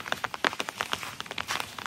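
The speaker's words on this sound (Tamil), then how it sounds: "அதான் மழை பெய்ய வெளியில் தெரியுது." Rain falls outside near an excavated ancient Tamil burial urn site, heard as a soft, steady patter of irregular crackling drops with no voices.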